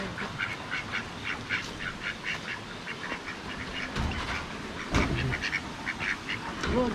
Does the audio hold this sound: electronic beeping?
no